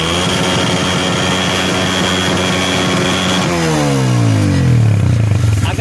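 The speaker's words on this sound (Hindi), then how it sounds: "सबसे पहले हम फिर बाइक को स्टार्ट करते हैं" A Honda CG125 motorcycle engine with a black smoke fault runs loud and steady, then revs up, its pitch sliding and rising near the end.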